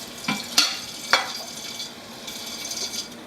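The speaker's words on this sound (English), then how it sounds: "I will ball it up and wash my dishes" Dishes washed with a balled-up wet cloth and foaming soap in a kitchen sink: a few sharp clinks and light scrubbing, soft and close, with no talking.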